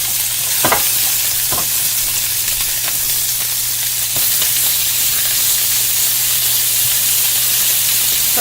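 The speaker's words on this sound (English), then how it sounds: "we're just going to throw the steaks in there" Steaks sear in a very hot pan, a steady loud sizzle and hiss running the whole time, with a few sharp crackles and pops breaking through. No one speaks.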